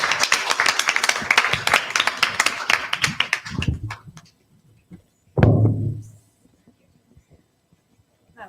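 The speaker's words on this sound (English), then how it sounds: "Give them a big round of applause." Clapping for the teams at an online schools debate showcase: a burst of close, crisp handclaps for about four seconds that thins to a few scattered claps, then a short, louder thump-like flurry and silence.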